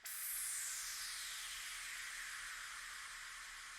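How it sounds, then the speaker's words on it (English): A hissing, noisy synth sweep that falls steadily in pitch over a few seconds, bright at first and gradually fading lower, heard alone. "here's another like sweep kind of thing. So this is more of a downlifter."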